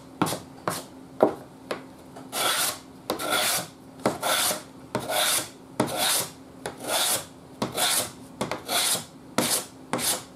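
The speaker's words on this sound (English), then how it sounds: "it's just taking the lacquer off of there" Lacquer is rubbed off a metal part with steady back-and-forth strokes, a close, dry rasping scrape repeating in an even rhythm with no talking.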